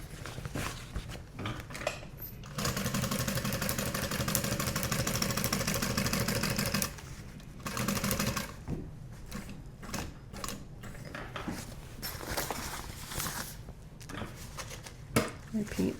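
A sewing machine stitching through a bulky duffel bag runs in a steady mechanical whir for several seconds, then stops and restarts in shorter bursts, with a voice talking over parts of it.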